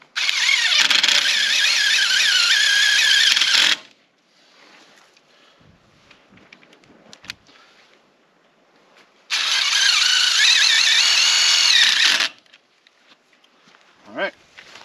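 A power drill drives tek screws into a greenhouse handle in two separate high-pitched whirring bursts of about three seconds each. Quiet rustling and handling noises fill the gaps between them.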